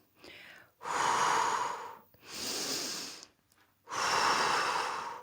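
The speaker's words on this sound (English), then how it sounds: "I'm breathing to the sides and back in." Three long, breathy exhales and inhales during a Pilates exercise on a platform, close and audible with short pauses between each breath and no speech.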